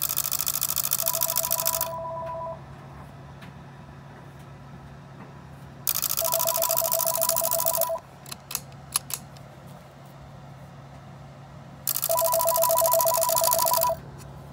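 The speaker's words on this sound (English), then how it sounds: "This is the clapper going back and forth." A Western Electric 500DM telephone's ringer clapper with the bells removed gives a rapid mechanical buzzing rattle in three bursts of about two seconds each, separated by pauses, with faint clicks in between.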